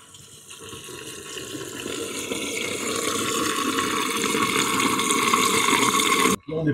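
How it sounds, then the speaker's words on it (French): Water runs from a tap in a steady stream that grows louder as the microphones move closer, ending with a brief break just before the close. "l'eau qui coule"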